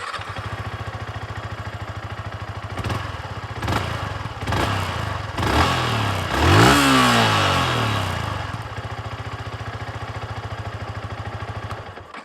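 A Yamaha R15M V4 Carbon Fiber Edition motorcycle idles with a steady, close exhaust burble, then gives several throttle blips and a long rising rev that falls back to idle, with no talking.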